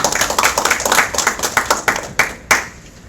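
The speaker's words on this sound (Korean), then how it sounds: "큰 박수로 환영해 주십시오." A forum audience of lawyers and journalists claps to welcome a speaker. The fairly close applause thins out into a few last distinct claps before it stops.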